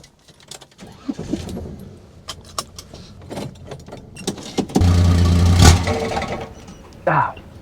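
A street car engine with a faulty carburetor cranks over after a run of clicks and key jingles, then catches briefly in a loud rough burst before dying, followed by a short sputter near the end.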